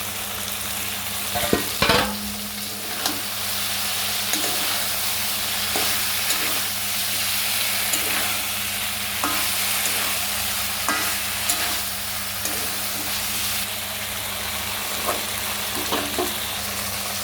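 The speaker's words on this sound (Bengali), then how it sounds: "এর মধ্যে কেটে রাখা আমি পনিরগুলো দিয়ে দেবো একে একে" Paneer pieces sizzle in a pan with a steady crackling hiss, punctuated by periodic scrapes and taps of a spatula stirring, close and even throughout with a faint hum underneath.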